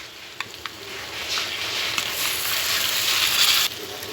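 Chopped tomatoes hitting hot oil for a spicy Katla fish curry, giving a steady crackling sizzle with a few sharp pops near the start that grows brighter before abruptly easing off.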